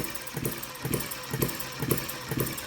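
Steady, rhythmic chugging from a Retrol & Musa HM-01 hit-and-miss engine running close by on a table, with regular firing beats roughly every half second and no voices.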